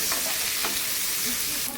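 Boiled green jackfruit pieces fry in a pan with turmeric and salt, giving a loud, continuous close-up sizzle with light stirring scrapes and no voices.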